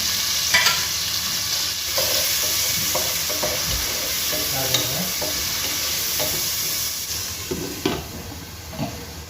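Tomatoes fry in a pan for fish masala with a continuous crackling sizzle, broken by scraping stirs and occasional light knocks of a utensil against the pan, close and fairly loud, with no voices.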